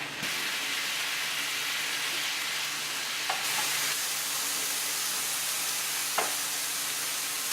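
Turkey pieces and vegetables fry in a pan, giving a loud, steady, even sizzle, broken by a couple of brief clinks as they are turned, with no talking.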